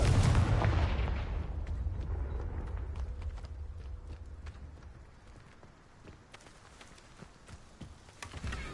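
Confringo fire spell explosions in the Hogwarts Legacy video game: a loud, booming blast at the start decaying into a rumbling tail, followed by scattered faint crackles and thuds.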